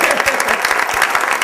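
An audience at an energy challenge event breaks into applause, a dense, close wash of many hands clapping at once without pause.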